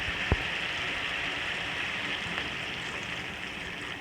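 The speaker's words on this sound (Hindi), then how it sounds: "अब इसमें डालती हूँ पानी।" Water is poured into a pot of spiced, masala-coated chilies, producing a steady hissing, rain-like rush that continues throughout, with one small clink near the start.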